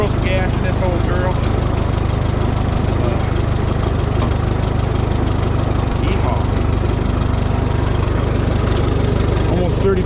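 An old tractor engine idles with a steady low chugging rumble, close and constant, while a voice talks intermittently over it.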